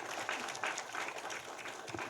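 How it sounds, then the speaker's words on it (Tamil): Audience applause at a Tamil film event, a dense patter of clapping from a crowd that swells briefly and keeps going. "ப்ளீஸ் ஒரு கைத்தட்டலுக்கு விடுங்களேன்."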